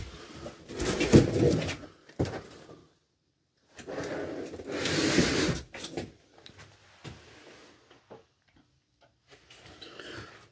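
A full-extension ball-bearing drawer in a fifth-wheel trailer slides open and shut a couple of times with smooth rolling rumbles, followed by a few soft knocks and clicks in a quiet room.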